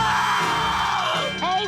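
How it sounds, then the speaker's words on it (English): A loud, sustained cartoon scream from a SpongeBob SquarePants episode rings out close and shrill, with a higher wavering cry near the end. "what's all the screaming up there?"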